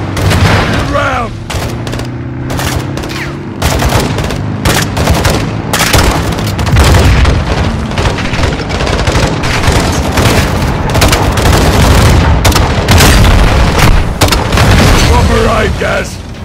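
A loud firefight in Call of Duty Modern Warfare 2, with a launcher explosion amid constant rapid gunfire and booming impacts, close and intense throughout, with voices shouting under the battle.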